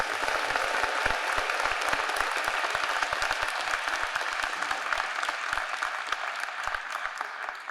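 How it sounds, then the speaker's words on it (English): Enthusiastic applause from a large crowd at a university convocation, steady dense clapping with distinct individual claps standing out, holding at a moderate level throughout. "Let's give everybody who works at Emory a big round of applause."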